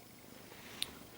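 A resting cat purrs faintly and steadily close by, a soft low rumble with a brief higher click near the end and no talk.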